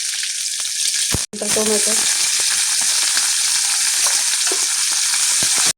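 Mustard seeds, cumin, curry leaves and onion frying in hot oil for dodka bhaji, giving a steady loud sizzle with stirring clicks, broken by a brief silent gap and a short voice.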